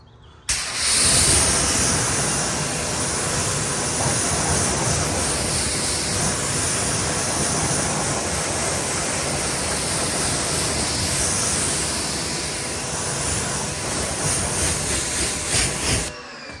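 A car being rinsed with a water spray after washing, the tires caked in dark debris: a steady, loud broadband hiss of spraying water runs unbroken for about fifteen seconds, with no voices.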